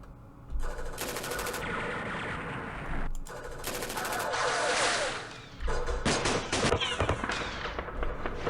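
Enemy machine-gun fire in the Campaign Series Middle East wargame, Rebel Ridge scenario in Yemen: repeated rattling bursts and fusillades, loud and dense, with sharp cracks near the end and no talk.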